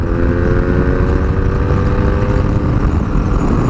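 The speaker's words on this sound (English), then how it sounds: "she's got loads of go out of this boxer engine" A 2017 BMW R nineT Urban G/S boxer twin engine drones loudly and steadily close by on a dual carriageway, its pitch rising gradually as the motorcycle accelerates.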